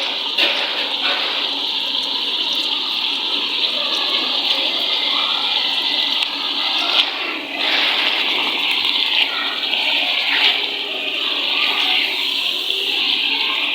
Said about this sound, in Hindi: तो इसमें मैंने चमचा भर के डाल दिया घी का। करेंगे इसको इसमें फ्राई थोड़ी देर।